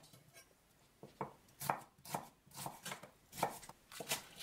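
A knife chops spring onions into chunks on a cutting board, about a dozen crisp, close knocks in an uneven rhythm, some in quick pairs, with quiet gaps between and no talk.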